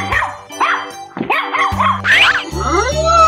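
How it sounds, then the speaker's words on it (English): A cartoon dog barks repeatedly in quick, loud yips and bow-wows, with short pauses between barks and a whining, whimpering tone near the end. "Dog."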